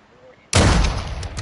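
A sudden loud burst of gunfire in Call of Duty Modern Warfare 2 on PlayStation 5 cuts in after a quiet moment and stays dense and close, a rapid volley of shots.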